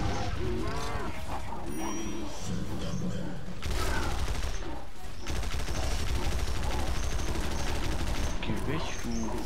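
Rapid bursts of gunfire fill a Godmode video game battle, sustained volleys hammering away with a mechanical clatter and brief pauses, loud and dense throughout.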